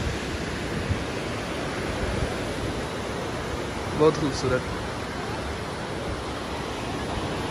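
Fast river water rushes through the Kashmir hills as a steady, broad roar, with a brief spoken remark partway through.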